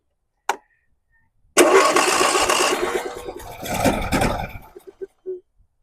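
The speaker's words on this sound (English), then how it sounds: "At least we got it to kick off the first try." A 2021 John Deere S120 lawn tractor engine, being repaired after salt-water damage, cranks and catches, running roughly for a few seconds before sputtering and dying out in a few final coughs; a voice speaks briefly just beforehand.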